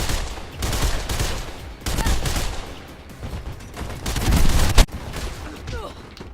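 Gunfire in the video game Mirror's Edge: dense bursts of rapid shots fill the clip, loud and close, with a sharp heavy blast near the end, over constant game noise and a voice speaking.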